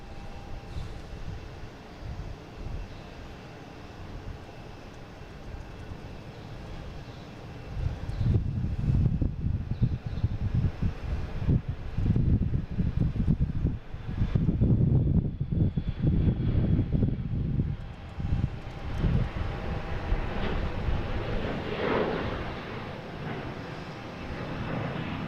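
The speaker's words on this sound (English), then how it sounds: "next taking off is American Airlines flight 4486 heading to Chicago" An American Airlines jet takes off at Boston Logan International Airport, its engine roar building from a distant rumble into a broad, loud wash that swells and lingers, heard outdoors with wind and no talk.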